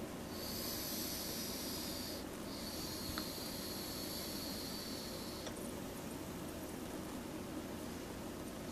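A long, steady inhale drawn through a wide-open-airflow vape tank, a soft continuous airy hiss close to the mic lasting several seconds with no talking.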